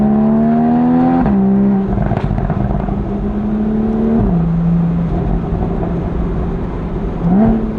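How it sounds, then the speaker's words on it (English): Engine of a Porsche 981 Boxster GTS or 997.2 Carrera on a tight mountain pass road, droning steadily inside the cabin, its pitch stepping down and up with each gear shift and brief revs. "I'm just pointlessly shifting up and down."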